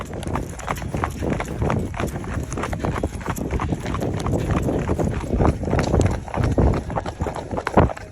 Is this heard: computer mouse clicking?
no